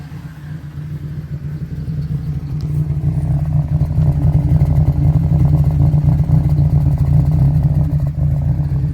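A turbocharged Honda Element engine settles into a steady idle after the throttle eases off, a close, even low rumble with light clatter and no speech.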